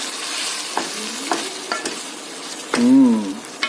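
Lasagna sauce stirred in a pot on the stove, a close, steady sizzle with a few scraping strokes, and a short sliding voice-like squeak near the end.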